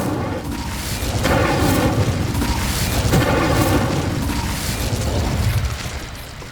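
An Incendio fire spell is cast in the video game Hogwarts Legacy, giving a loud, sustained booming roar of flame that swells and rumbles for several seconds before easing off.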